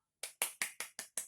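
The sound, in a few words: applause for two student presentation groups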